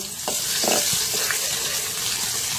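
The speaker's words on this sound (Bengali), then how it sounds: "চা চামচ দিচ্ছি গোটা সাদা জিরা তিনটা তিনটা থেতো করা রসুন দিচ্ছি" Whole cumin seeds and crushed garlic hit hot oil in a wok, giving a steady close sizzle with a few brief stirring scrapes and no voices.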